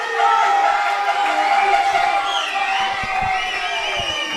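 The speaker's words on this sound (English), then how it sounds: "With the crowd going pretty berserk." A crowd roars and cheers loudly and continuously at a junior diving championship final on the 10m platform, with excited shouts rising and falling through the arena.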